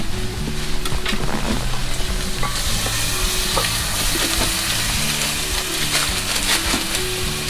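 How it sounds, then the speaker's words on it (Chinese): Onion sizzling and being stirred in a pot inside a small tent during a snowy mountain camp, a loud steady frying hiss with scraping stirs throughout. "我们现在第一步呢，就要先把这个洋葱先炒熟，炒到一点棕黄色"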